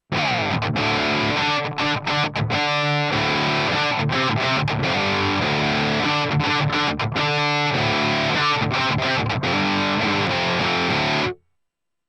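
Electric guitar played through a preamp pedal into an IK Multimedia TONEX pedal using Mesa cabinet emulation, a loud, continuous distorted riff with chugging palm-muted stops and chords, ending abruptly.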